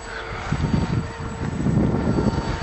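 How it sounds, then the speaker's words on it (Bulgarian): Steady wind noise buffeting the microphone, a continuous low roar with gusty surges, with a faint droning hum in the background. "Абе вятърът е толкова силен?"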